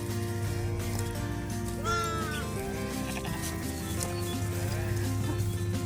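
A ewe lamb in the middle of lambing bleats in drawn-out, wavering calls, with other sheep bleating around her over a constant low hum and farmyard noise.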